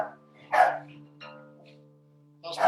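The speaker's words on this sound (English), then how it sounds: "That's my dog joining in." A Westie-Schnauzer cross dog gives two short, fairly loud barks about two seconds apart, with a faint yip between them, in a quiet room where a tuned guitar string hums underneath.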